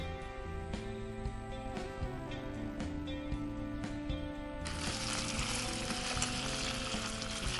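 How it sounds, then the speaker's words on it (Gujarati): Yam pieces roast in hot ghee in a kadai, giving a steady close sizzle with light clinks and scrapes of stirring throughout. "આ રતાળુને આપણે 3-4 મિનિટ ઘીમાં શેકીશું."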